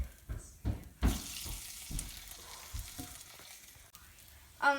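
An egg frying in a pan: a faint, low sizzle with a few soft thumps and scrapes from handling, and a louder clatter at the very end.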